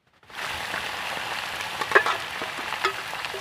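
Meat hits a pan of onions already fried red, bursting into a dense, loud, even sizzle with a few small pops and crackles, close up and without talk.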